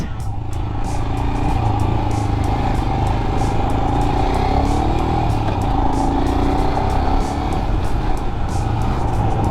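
Royal Enfield Scram 411 motorcycle with the single-cylinder engine shared with the Himalayan, heard while riding: a steady, loud engine drone with low rumble and wind noise, slight pitch rises as it accelerates, continuous throughout.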